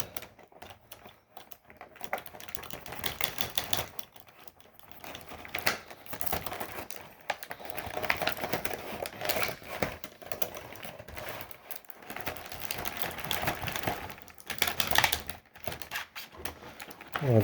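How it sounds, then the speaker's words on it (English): Packing tape on a cardboard box holding a Lord of the Rings collectible figure being cut, giving a long run of close, rough scratching, tearing and crinkling noises in uneven bursts, with no talking. "Oh, the tape was so hard to cut on that."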